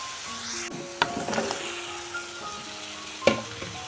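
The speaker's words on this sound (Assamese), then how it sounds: "এতিয়া মই আলুখিনি ঢালি দিম এইখিনিতে" Raw potato pieces are tipped into a hot pan of egg curry, which sizzles close and fairly quiet, with a couple of sharp knocks and clatters of utensil against the pan.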